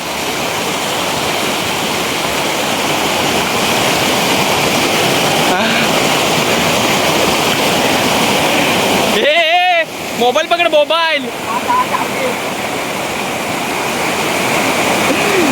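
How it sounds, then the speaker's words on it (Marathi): A full river rushes loudly past, a continuous roaring surge of water close by that dominates throughout, with people talking briefly near the end over the flow. "हे बघा पाणी किती आहे फुल पाणी नदीला"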